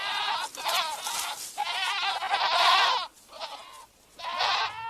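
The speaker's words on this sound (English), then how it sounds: "Goats let loose in the forest are very destructive, browsing just about anything they can reach." Goats loose in a forest bleat repeatedly and loudly close by, several wavering calls in quick succession with brief gaps between them and no talk.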